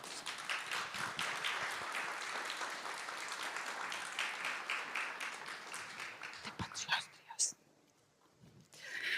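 Audience applause at a panel discussion event on digital media and the brain, sustained dense clapping for about seven seconds that thins out and stops, followed by a brief quiet gap and renewed sound.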